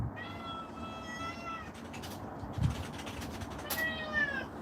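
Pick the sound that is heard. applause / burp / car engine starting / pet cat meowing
pet cat meowing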